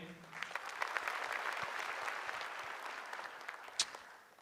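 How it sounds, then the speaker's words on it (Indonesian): Audience applause at a televised stand-up comedy roast final, a full, close burst of clapping that swells and holds for several seconds before tapering, with scattered voices and a whoop near the end. "Tepuk tangan dulu buat teman-teman gue ini."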